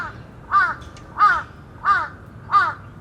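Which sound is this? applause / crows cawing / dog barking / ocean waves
crows cawing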